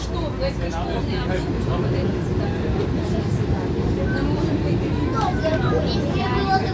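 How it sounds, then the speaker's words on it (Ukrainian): Steady low rumble of a stationary locomotive idling at a train depot in Göppingen, a continuous mechanical drone with faint voices in the background. "Ось ще такий локомотив там стоїть"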